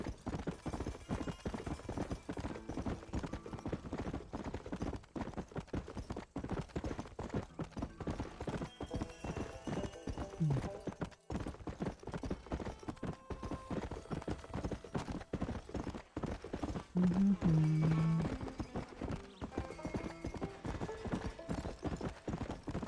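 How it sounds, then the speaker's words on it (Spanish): Horse hooves clop at a steady riding gait in the Red Dead Redemption video game, a quiet continuous rhythm with a brief whinny near the end. "Tiene su toque viajar a caballo."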